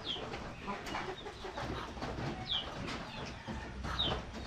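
Chickens at a rural Vietnamese home cluck and chirp at moderate distance over a busy outdoor background, with scattered higher calls and no clear speech.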